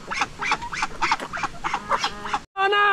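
A farmyard of hens, ducks and guinea fowl calls out in a run of repeated honking, quacking cries, then a sharper, louder call closes the clip; the birds sound moderately near with no talk.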